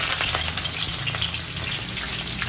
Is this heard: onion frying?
yes